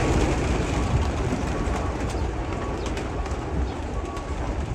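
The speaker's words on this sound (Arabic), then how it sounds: "حمام اهو، بسم الله ما شاء الله." Many pigeons coo at a large pigeon farm in Egypt, their soft calls blending into a dense, steady wash of flock and background noise with no talking.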